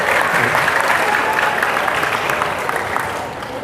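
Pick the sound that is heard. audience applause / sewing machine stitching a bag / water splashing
audience applause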